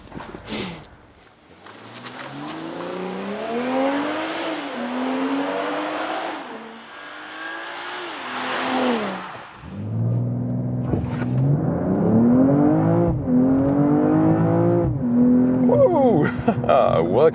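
A BMW M240i coupé launches hard from standstill to 100 km/h, its engine climbing loudly through several rising gear pulls with brief dips at each shift, close and sustained.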